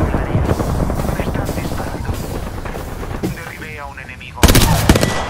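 Rapid automatic gunfire rattles in a shooting video game, dense and continuous over a roaring, helicopter-like engine drone, ending in a louder close burst, with players talking over it.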